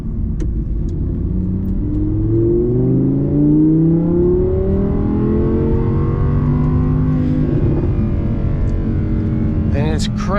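An Audi R8 under way, its engine note climbing steadily and holding high revs without shifting down, loud and continuous from up close.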